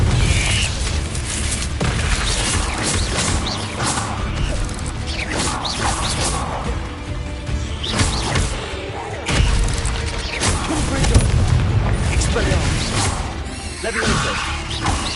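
Confringo blasting spells in Hogwarts Legacy explode repeatedly in a loud, dense barrage of bursts, crashes and booms over busy game action, with no voices.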